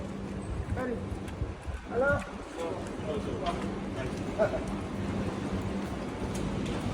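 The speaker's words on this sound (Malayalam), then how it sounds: "നല്ല മഴയും തണുപ്പൊക്കെയാണ്" Heavy rain pours in a steady, even hiss during cold weather, with a few faint voices heard briefly beneath the constant downpour.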